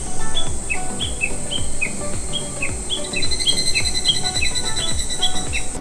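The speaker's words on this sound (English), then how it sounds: "if we open the window, we can hear the sounds of the birds and the insects" Birds chirp in repeated short calls over a constant high insect buzz, an outdoor chorus in Japan heard clearly and fairly close through an open window.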